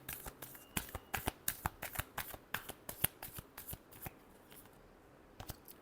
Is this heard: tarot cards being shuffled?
yes